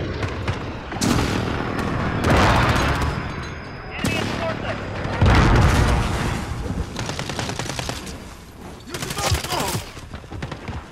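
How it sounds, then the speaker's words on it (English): An airstrike in a first-person shooter, with repeated heavy bursts of explosions and gunfire rolling in waves, loud and close, while voices talk over parts of it. "Friendly position airstrike inbound."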